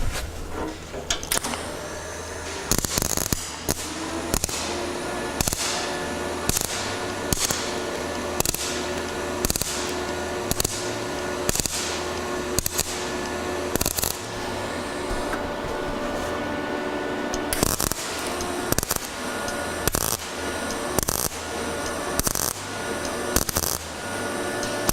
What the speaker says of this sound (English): So we'll just weld these holes up.